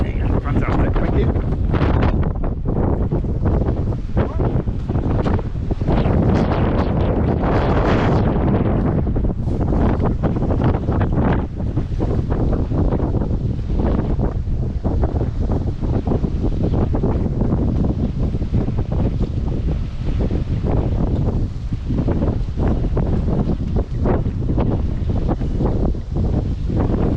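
Strong wind gusting across a marina pontoon as a sailboat is lifted out for winter, a loud continuous roar of microphone buffeting that swells and eases throughout, with faint rustling and water underneath.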